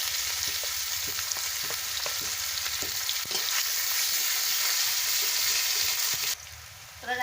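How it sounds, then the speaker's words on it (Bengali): Chopped onions frying in a hot pan with a steady, dense sizzle and crackle that stays fairly even throughout, with a few soft stirring knocks mixed in. "এবার আমি পেঁয়াজ কুচিটা দিয়ে দিচ্ছি, দিয়ে ভালো করে ভেজে নিচ্ছি"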